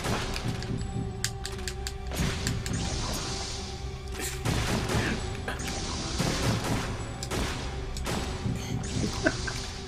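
Video game gunfire rattles in dense, rapid volleys, loud and continuous, with sharp cracks and crashing impacts layered over a busy game soundscape.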